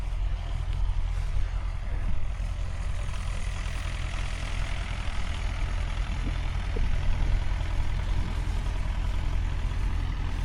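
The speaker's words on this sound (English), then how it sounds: "There's a Leyland tractor going up there." A Leyland tractor engine rumbles steadily at a rural show in Horns Cross, Sussex, a continuous low drone holding at moderate distance without talk.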